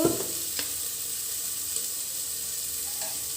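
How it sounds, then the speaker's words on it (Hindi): Potatoes sizzle steadily in a pan over a bed of already-browned spices, a continuous close hiss with a few light stirring knocks and no talk. "अब इसमें जाएगा आलू और आलू को भून देंगे ऐसे ही"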